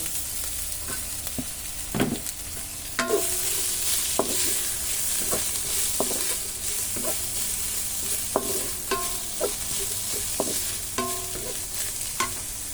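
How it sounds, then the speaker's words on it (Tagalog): Leftover chicken being stirred into a pot of vegetable soup with onion, giving a steady sizzle and bubble broken by repeated sharp scrapes and knocks of the spoon against the pot. "Ilagay na natin yung leftover guys na chicken."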